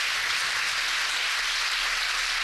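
Steady, dense applause from a church congregation applauding the Lord after a sermon, continuous broadband clapping with no speech over it.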